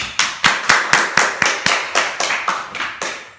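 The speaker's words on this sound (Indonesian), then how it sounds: "Boleh tepuk tangan" Children in a classroom clap their hands in about a dozen sharp, evenly spaced beats, a brisk unison rhythm of crisp slaps, fairly close and loud with no voices.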